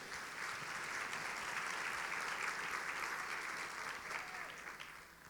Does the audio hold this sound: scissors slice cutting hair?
no